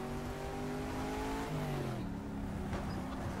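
A race car engine in the GTR 2 racing game holds steady harmonic revs, then drops pitch as the car brakes and downshifts, with a faint squeal near the end, continuous and loud with no talk.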